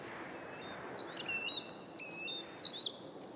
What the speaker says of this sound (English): Yeah, there's birds here.